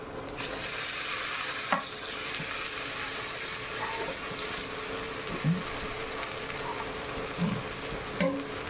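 Raw mango pieces with a pinch of turmeric sauté in a hot pan for mango rice, giving a steady close sizzle broken by a few soft stirring knocks and clinks.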